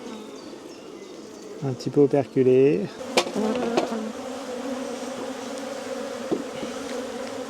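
Honeybees buzz around an opened hive during a honey harvest, a steady dense drone with a few louder passes close by, while a voice speaks briefly in French.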